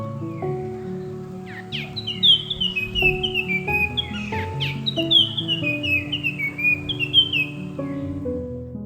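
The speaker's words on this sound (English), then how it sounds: "We soon found a mixed flock of babblers moving through the bushes." A mixed flock of babblers calling from thickets, a lively run of overlapping whistles, chirps and harsh notes close by, rising and falling in quick bursts.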